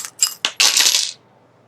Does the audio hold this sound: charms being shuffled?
yes